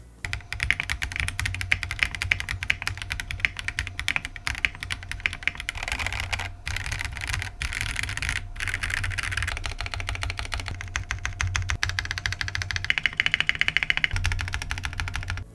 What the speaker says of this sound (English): here's how the Zoom65 V2 sounds with zero foams.